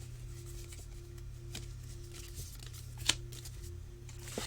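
A Labyrinth tarot card deck is cut and shuffled up close, with soft card rubs and faint slides and one brief sharp snap, all quiet over a low background hum.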